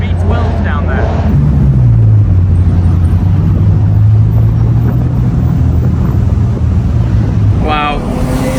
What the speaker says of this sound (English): listen to the chaos unfolding up front. Non-stop V12 down there